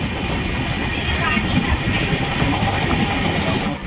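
The Howrah Puri Super Fast Express rolls into Kanas Road station with a steady, loud rumble and rattle of wagons heard from on board, with no clear pauses.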